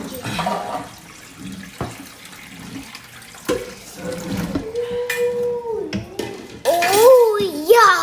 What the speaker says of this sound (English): Because we're dumping the water, brother.